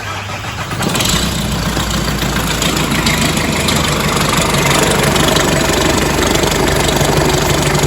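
A Nissan X-Trail engine cranks and catches, then settles into a steady, loud idle that runs on alone with no talk.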